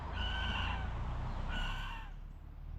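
A rooster crows twice, each call a few moments apart, fairly close and clear over a steady low background hum.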